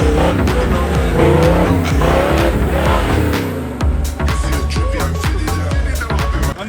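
A 4WD engine revved hard at an off-road weekend event, loud and roaring with tire squeal and skidding, then rhythmic bursts of revving as the vehicle works nearby.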